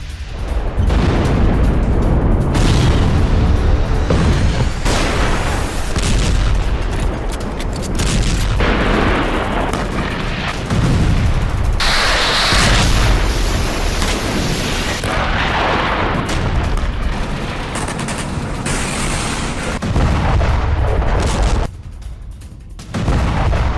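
Missiles fired from a Bradley vehicle in a Ukrainian front-line attack on Russian positions produce loud, repeated booms and blasts with heavy rumbling that carries on for about twenty seconds.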